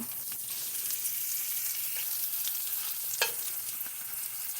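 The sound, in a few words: frying food in a pan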